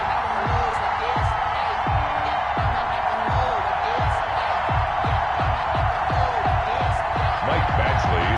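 Stadium crowd in an NFL video game, Seattle Seahawks versus Carolina Panthers, a loud, dense, continuous roar of cheering with rhythmic thumping, under a commentator's voice.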